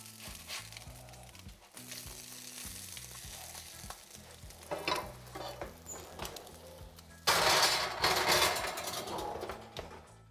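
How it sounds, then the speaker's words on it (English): Sandwich browning in a hot pan, a steady close sizzle and crackle of frying that swells louder near the end, with no talking. "this is going to brown on one side for about a minute or two"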